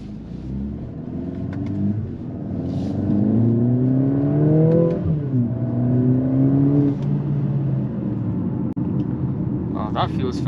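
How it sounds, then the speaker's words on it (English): A 2023 Mercedes-AMG GLA 45 SUV accelerating hard in race mode, its engine note rising through several quick gear changes, heard from inside the cabin with a person talking over it. "So in race mode, obviously you can take off and really feel the power of the AMG car."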